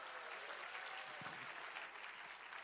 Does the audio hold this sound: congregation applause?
yes